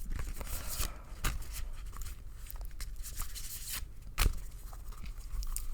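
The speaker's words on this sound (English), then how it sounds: "I shuffle until Spirit tells me to stop." A deck of tarot cards is shuffled by hand, with soft irregular riffles and flicks that stay quiet and close and carry on steadily.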